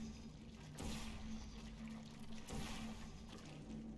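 Gel goop gushes and trickles continuously in the Portal 2 video game, a steady liquid pour close by with a couple of brief splashing bursts, with no one talking over it.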